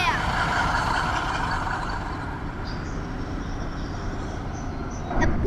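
A large truck rumbles in with a steady, heavy engine drone that stays loud throughout, while people talk over it.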